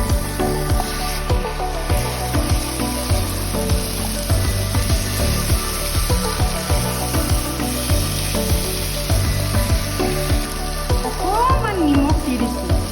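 Potatoes sizzle and fry in a pan with soybean and sweet corn, a constant close crackle, with a utensil stirring and scraping through the mix.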